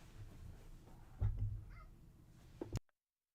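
A house cat meows briefly indoors, a couple of faint, short calls over quiet room noise before the sound cuts off.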